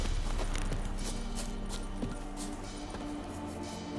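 Horse hooves clip-clop in The Witcher 3: Wild Hunt on PS5, a steady trotting rhythm of soft hoofbeats that runs throughout, close and moderately loud over a constant low ambient bed.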